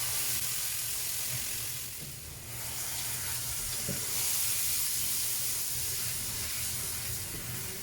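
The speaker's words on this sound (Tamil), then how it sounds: "ஓகே, என்ன சூடு வந்ததோ நம்ம வந்து அரைச்சி அந்த மசாலாக்களை அதில் கொடுத்துருவோம்." Ground masala paste hits hot sunflower oil in a pan for Malaysian mamak mee goreng, giving a soft, steady hiss and sizzle that stays fairly faint and continuous, with no speech.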